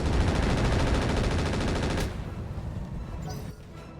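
A minigun fires a rapid, dense burst of shots in the mech video game RogueTech. The loud, continuous rattle runs for about two seconds, then cuts off, and quieter impact noise trails after it.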